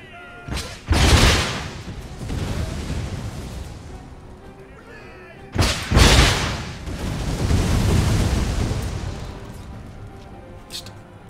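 Artillery volleys in the video game Empire: Total War, two heavy booming blasts a few seconds apart, each with a sharp crack followed by a long rumbling roll, plus a lower swell of battle noise between them.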